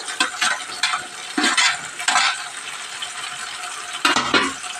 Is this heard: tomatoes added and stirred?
yes